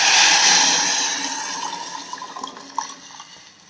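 Mixed water is poured into a pot while making crab rasam: a loud, close rush of liquid that slowly tapers into lighter splashes and trickles, with no talking.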